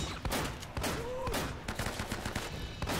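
Dense gunfire rattles on without a break through a boss fight in Uncharted: Drake's Fortune, with Navarro firing a shotgun among many enemies. The sharp bursts overlap and stay loud across the whole stretch, with a faint voice now and then.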